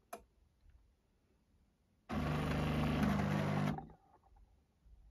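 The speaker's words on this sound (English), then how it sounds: "So should I start with the grinding or when it starts actually making coffee?" A home coffee machine grinding coffee beans, one loud, steady burst of close mechanical whirring lasting about a second and a half, with quiet room sound before and after.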